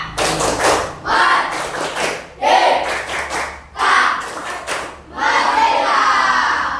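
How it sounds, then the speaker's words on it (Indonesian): A school class performs the rhythmic tepuk merdeka clapping chant, bursts of hand claps in patterned groups with chanted voices, loud and close, repeating in several phrases. "kita tepuk merdeka dulu"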